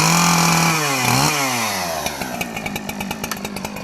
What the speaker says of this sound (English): Number one is a chainsaw that we use for cutting down trees